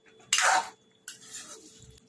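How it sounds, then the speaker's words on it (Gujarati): Dana muthiya curry stirred in a pan with coriander leaves added: two short bursts of scraping and clinking, the first louder, then a faint low thud near the end. "હવે મિક્સ કરી લઈશું શાકને આપણે આ રીતે"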